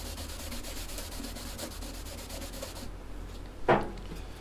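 A cloth wipes teak oil off a ukulele neck, making a steady, soft, close rubbing swish. The rubbing stops, and a single brief knock follows.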